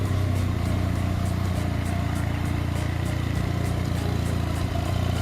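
Small engine idling steadily after a new iridium spark plug and a fresh air filter were fitted, a close, even low rumble with a faint regular ticking on top and no talk over it.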